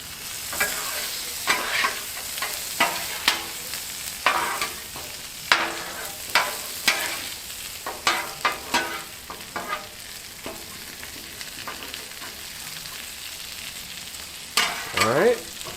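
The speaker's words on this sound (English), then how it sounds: "now with the Parmesan cheese on top, we're actually going to go ahead and stir all this together" Garlic Parmesan mushrooms sizzle and crackle on a Blackstone griddle while a spatula scrapes and stirs them in quick, uneven strokes, the frying loud and close with no talking.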